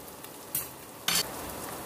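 Ginger and green chili paste frying in a pan for a potato curry, a quiet steady sizzle with two brief louder bursts of stirring.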